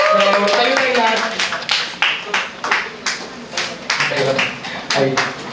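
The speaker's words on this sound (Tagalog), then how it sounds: "O isang palakpak naman sa ating Panginoon." A congregation claps for the Lord at a church service, irregular bursts of hand claps rising and falling over several seconds, mixed with voices and room noise.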